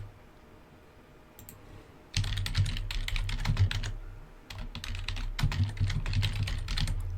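Steady typing on a computer keyboard, with rapid clattering keystrokes starting after a quiet lead-in, a brief pause midway, then another fast run, close and fairly loud, no voices.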